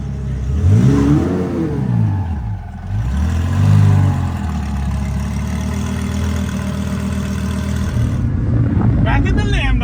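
A 2000-horsepower Lamborghini revs in repeated rising-and-falling surges, loud and close, its engine swelling and dropping before settling into a steadier drone, with voices and cheering over it near the end.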